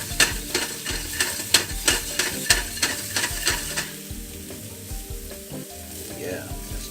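Mushrooms sizzle in a pan alongside a seared steak, with rhythmic sharp clatters of stirring or scraping over a crackling fry that thins out toward the end.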